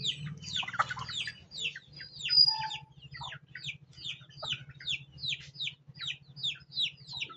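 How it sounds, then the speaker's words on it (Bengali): Native desi chickens cluck in a steady series of short, sharp calls, repeated quickly and close by, with a low continuous rumble underneath and one brief higher squawk early on. "এইটা মুরগি"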